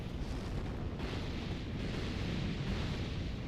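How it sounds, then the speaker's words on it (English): Small bombs thrown by a boss explode in Dark Souls II, heard as a steady, fairly quiet rumbling roar of blasts with no distinct gaps between them. "Watch out for these little bombs he's going to throw at you."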